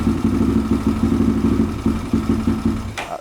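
A Yamaha Raptor ATV engine cranks over without choke, a loud, close, rapid rhythmic chugging and clatter that runs steadily for about three seconds before cutting off.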